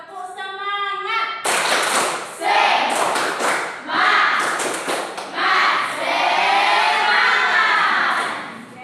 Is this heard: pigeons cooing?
no